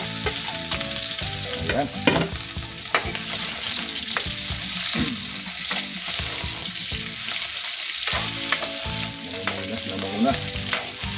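Onions fry in a pan for Filipino sarciadong galunggong, sizzling steadily while a utensil stirs and scrapes them in repeated strokes, close and fairly loud; one short word is spoken.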